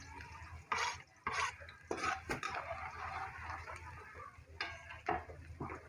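Onion and garlic sautéing in a pan, soft sizzling under repeated scraping and stirring strokes from a utensil, with occasional clinks against the pan.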